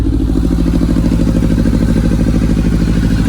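A Kawasaki ZRX motorcycle engine with old carburetors and a new exhaust runs steadily nearby with a loud, lumpy, throbbing idle and a faint mechanical clatter.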